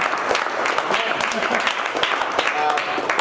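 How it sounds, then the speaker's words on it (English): A crowd applauds at an evening sales networking event, with dense clapping running throughout and voices talking over it. "I do want to also give a round of applause to Tyler and Sales Off for hosting us"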